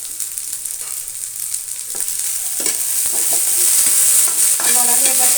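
Chopped banana flower sizzles and frys in a pan with salt and turmeric, a steady hiss with occasional stirring scrapes and faint clinks, growing slightly louder toward the end.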